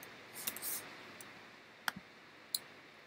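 A computer mouse clicks a few times at a desk while a device is registered with its MAC address entered without colons; sharp, isolated clicks spaced apart over a quiet background.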